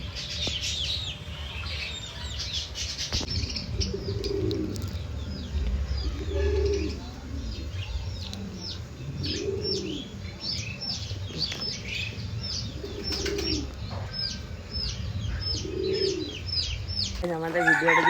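Pigeons in a loft give repeated soft, throaty coos at close range, mixed with scattered high chirps and light clicks and shuffles from the birds moving about.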